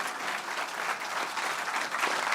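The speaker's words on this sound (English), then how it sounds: "Let's give him a round of applause." Audience applause fills a town hall meeting on benefits and taxation in Bucks County, Pennsylvania, a steady, dense clapping that holds at even loudness throughout with no voices over it.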